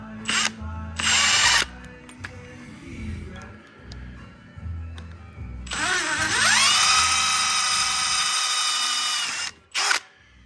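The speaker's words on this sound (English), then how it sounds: "you're gonna wanna drill a couple holes into the main seal itself" A small drill bit bores holes into the main seal of a Harley 4-speed transmission: two loud bursts of high-pitched drill whine early on, then a longer sustained run of steady whirring, separated by quiet clicks and handling noise.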